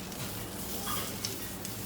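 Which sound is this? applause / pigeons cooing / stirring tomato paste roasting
stirring tomato paste roasting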